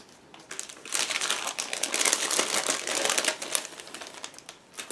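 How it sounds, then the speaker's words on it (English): Plastic crinkles and crackles up close as the sealed bag of a 1/72 scale plastic model kit is cut open, a quick run of sharp rustling snips, fairly quiet overall. "it is sealed plastic bag, so I will cut it through"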